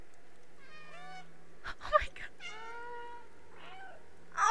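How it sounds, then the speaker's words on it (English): Several short in-game cat meows from the video game Stray, rising and falling, spaced across the moment, with a player's voice talking briefly between them. "Left alt to meow."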